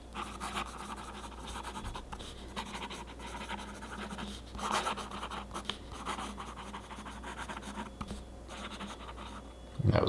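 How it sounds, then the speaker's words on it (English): A Parker Duofold fountain pen with a fine nib writes on paper, giving faint, close scratchy strokes in irregular short bursts over quiet room hiss, with a louder scrape at the very end. "there's just a little bit of pen on paper feel"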